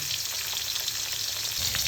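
Fish frying in hot oil, giving a continuous close crackling sizzle with dense spitting pops that holds steady the whole time, with no voices.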